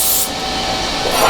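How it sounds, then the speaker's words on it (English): Anti-spatter spray hisses from an aerosol can onto a welding workpiece in a shop, a short, steady burst of spray at close range that lasts about a second. "I'm going to use some of this anti-splatter, though."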